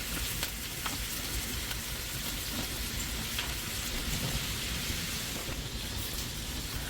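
Beef patties for patty melts fry in a pan with a loud, continuous close-up sizzle and spatter, steady throughout without any voices.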